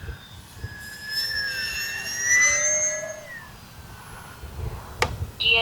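An Arrows RC P-51 Mustang model plane passes overhead at full speed, its high electric whine sweeping in pitch as it flies by at moderate distance, fairly faint, with wind noise and no talk.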